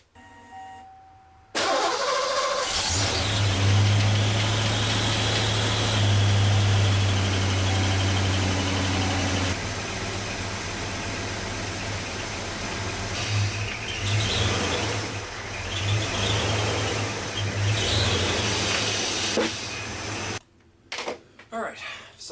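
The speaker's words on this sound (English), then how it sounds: "And we'll take the Mustang out." A 1986 Ford Mustang GT engine starts and runs, a loud steady low rumble that settles into a driving drone with varying revs, with people talking over it at times.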